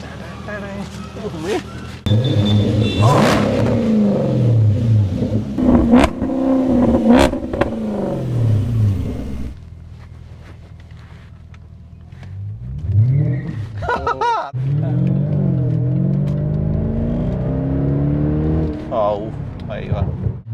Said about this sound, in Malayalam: ആ ഒരു V8 എഞ്ചിൻ്റെ സൗണ്ട് കൂടി കേൾപ്പിക്കണ്ടേ